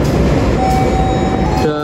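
Railway station ambience around locomotive CC 201-103, a diesel-electric of the Cipinang depot, standing on a siding: a steady low rumble and rail hum with a faint tonal whine, continuous and fairly loud throughout.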